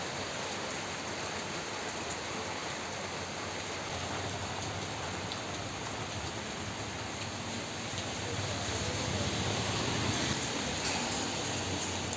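Heavy rain pours steadily at Cherupuzha, a dense, even hiss of falling water that stays constant and close throughout, with no voices.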